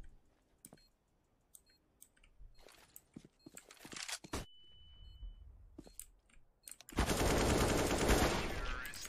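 Rifle fire in a CS:GO match, with scattered single shots and short bursts followed by a loud, sustained volley near the end, plus clicks and faint background sounds.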